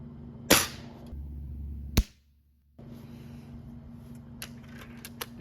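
A .177 pellet gun fires non-lead pellets outdoors in two sharp, close cracks about a second and a half apart, followed by faint distant ticks and a low steady background hum.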